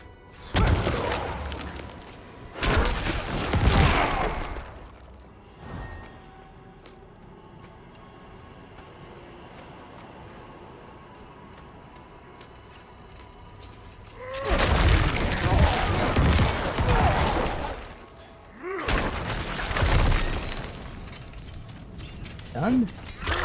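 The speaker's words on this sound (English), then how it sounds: "it really is just basically one bone spear and then corpse explosion for the entire fight" Bone spear and corpse explosion attacks from a Necromancer in the Diablo IV beta, heard as loud bursts of blasts and crunching impacts that come in two clusters with a quieter stretch of game ambience between them.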